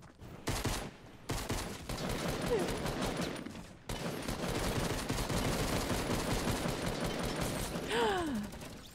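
Sustained automatic gunfire in Fortnite, a dense, loud burst of rapid shots that fills most of the stretch, cut by a brief gap and ending with a short vocal sound.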